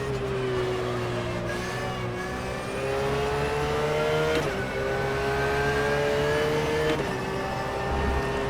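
A GT3 race car engine in the rFactor 2 racing game at Mugello, loud and steady, its pitch climbing through each gear and dropping sharply at the shifts, with no voices over it.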